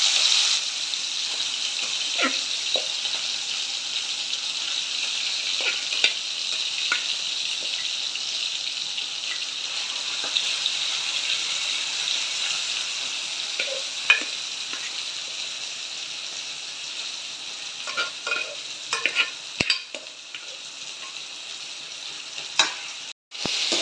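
Boiled mushrooms sizzle steadily in hot coconut oil in a pan, a continuous loud frying hiss broken by scattered scraping clicks from stirring, close and uninterrupted.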